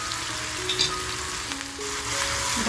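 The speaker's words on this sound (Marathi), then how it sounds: "लसूण आणि मिरची जी आपण खरडून घेतली आहे ना, ठेचून घेतली आहे, ती आता आपण टाकून घेऊया" Steady, crackling sizzle of crushed garlic and green chili dropped into hot oil, close and continuous, with faint stirring and no voices.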